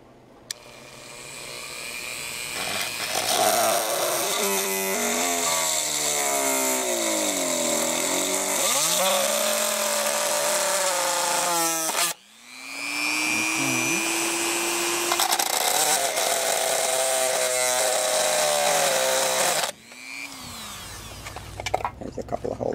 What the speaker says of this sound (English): We're going to use a Dremel tool.